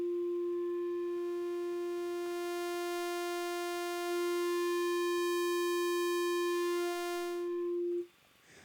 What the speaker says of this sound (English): I'm going to be changing this as I play a note so you can see the different harmonics being generated.